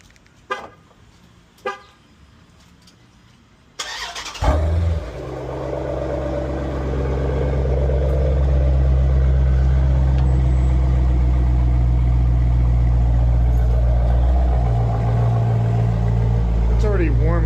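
An already-warm car engine cranks and catches after a few short clicks, revving up and then settling into a steady, loud idle with a deep rumbling exhaust that rises once more near the end.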